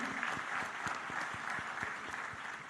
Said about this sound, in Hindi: आइए हम भी तालियों के साथ इस गौरवपूर्ण क्षण को और महान बना दें